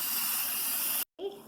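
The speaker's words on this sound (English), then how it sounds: "I'm going to go ahead and turn it off and release the remaining pressure that's in there" An Instant Pot pressure cooker vents its remaining steam pressure in a loud, steady, close hiss that cuts off abruptly, followed by a brief quieter tail.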